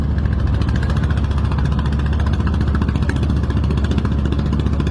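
A trawler boat's engine runs near a launch boarding point, a loud, steady, close diesel rumble with an even throbbing pulse throughout.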